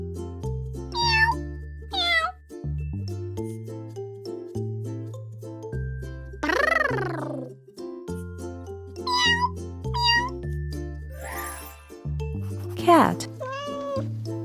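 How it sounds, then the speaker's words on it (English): A cat meows about half a dozen times in short, rising and falling calls spread across the stretch, loud and close over a steady backing of music. "Cat."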